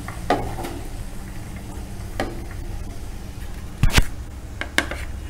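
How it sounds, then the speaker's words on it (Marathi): Chopped onion going into a hot pan for oats Manchurian, with a low, steady sizzle running throughout and a few sharp scraping clinks of a utensil against the pan; no talking. "आता आपण आधी कांदा घालून घेऊ"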